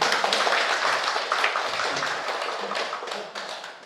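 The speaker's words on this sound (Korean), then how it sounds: "이러면 박수 한번 쳐도 되는 거야." Audience in a church lecture hall clapping together, a dense, steady wash of applause that holds for several seconds, fairly close and loud, fading slightly toward the end.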